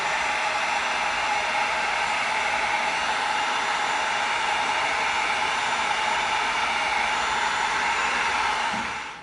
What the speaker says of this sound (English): now let's heat seal it